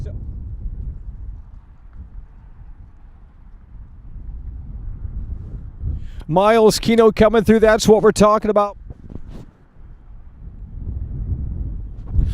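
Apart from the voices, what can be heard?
wind blowing into the microphone outdoors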